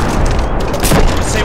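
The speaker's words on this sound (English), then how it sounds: "We're under heavy indirect and heavy direct fire from the cannons." Heavy rumbling booms of Arma 2 artillery and mortar fire roll together in a dense, loud barrage, with no pauses over the brief stretch.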